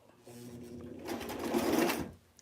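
Close sewing machine run stitching in the ditch on a small Barbie dress, one short burst that rises in speed and then stops.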